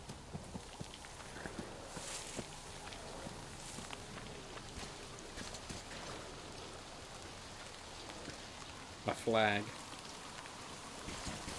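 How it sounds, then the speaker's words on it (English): Rain falls in the post-apocalyptic shooter Metro Exodus, a faint steady hiss of drops with soft footsteps, a few scattered thumps and a short rising tonal burst near the end; a voice speaks briefly. "Oh shit, it's raining!"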